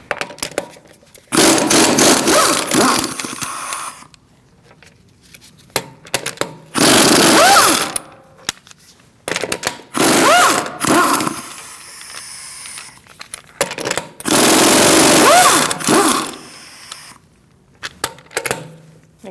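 Removing the rear wheel of a Mercedes-Benz C300 with a 17mm socket on an impact tool, four loud bursts of rattling whirr separated by pauses with quieter clicks and handling noises between.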